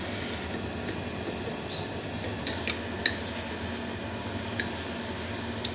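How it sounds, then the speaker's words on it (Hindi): A single egg is whisked with a fork in a bowl until frothy, giving a quick, steady series of light metallic clinks and taps against the dish, close and fairly quiet, with no talking. "तो इसको अच्छे से फेंट लें कि जब तक इसमें झाग बन जाए"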